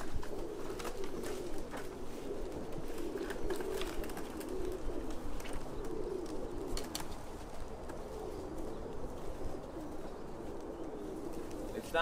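Soft, steady cooing from several pigeons at close range inside a pigeon loft in New Jersey, layered with a low indoor hum and occasional faint flutters.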